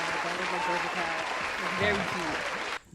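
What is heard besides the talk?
round of applause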